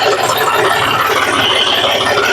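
A tractor engine runs close by with a loud, steady low rumble and a continuous mechanical rattle, with no talking.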